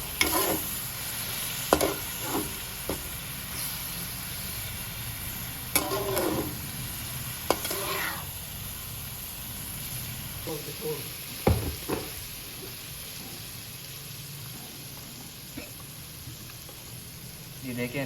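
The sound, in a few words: stirring palak gosht (spinach and meat) in a pan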